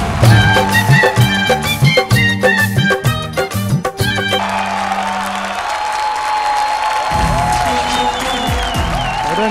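Audience at a Holi 2021 dance competition stage show applauding loudly, with a rhythmic music beat playing underneath for the first few seconds before the clapping continues as a dense, steady wash.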